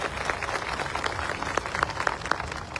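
An audience at a tribal community gathering applauds police officers, a dense and steady patter of many hands clapping at a moderate distance with no voices over it.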